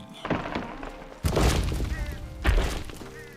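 Two heavy thuds with crackling, splintering debris, the first at about a second in and another near the end, as a large tree crashes down in Red Dead Redemption 2.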